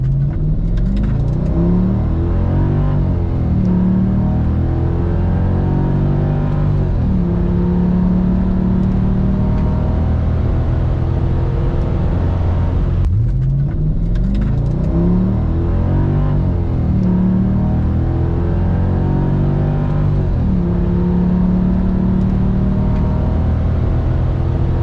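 A Mercedes ML55 AMG engine under full throttle on a test drive with traction control off, loud and continuous, rising in pitch through repeated sweeps with brief dips at gear changes and no talking.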